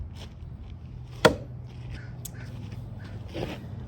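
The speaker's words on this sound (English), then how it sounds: "Bust this log up here. Chop it into a few pieces here." A Drengr Seax knife from Work Tuff Gear strikes a log once, a sharp, close chop, followed by a fainter second hit near the end over quiet outdoor background.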